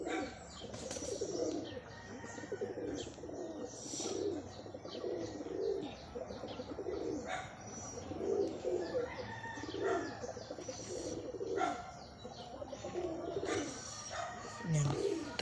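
Pigeons coo steadily and close by while being fitted with leg rings, with soft repeated throaty calls, light chirps and some handling rustle throughout.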